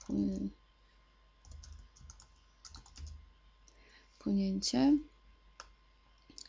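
A few soft computer mouse clicks tap out sparsely in a quiet room, with brief bits of talking in between.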